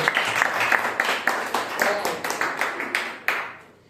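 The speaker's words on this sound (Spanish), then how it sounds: "Démosle un fuerte aplauso a nuestro Señor" A church congregation breaks into brisk, rhythmic applause for the Lord during a sermon, close and steady for a few seconds.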